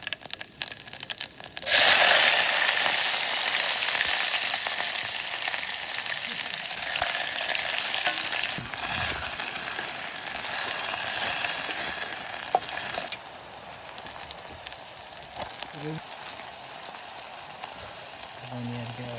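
Steady loud sizzling of onion and tomato frying in a pan at a riverside campsite, with occasional stirring scrapes; the sizzle drops somewhat quieter near the end.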